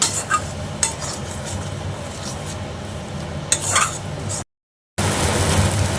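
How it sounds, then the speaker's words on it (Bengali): A spatula stirs mashed jackfruit seeds in a pan over lowered heat, scraping steadily with a few sharper clicks and a faint sizzle under it, then a short silent break before the scraping resumes. "এরকম করে নাড়িয়ে যেতে হবে যাতে নিচে না লেগে।"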